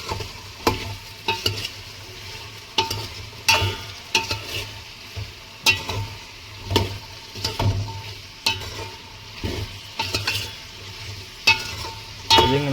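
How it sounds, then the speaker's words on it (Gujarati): A brinjal and potato curry tempering in hot oil, with rhythmic spoon strokes scraping and clanking the pan over a continuous sizzle, repeating roughly every second, close and fairly loud. "શાકમાં વઘાર કરી નાખ્યો છે"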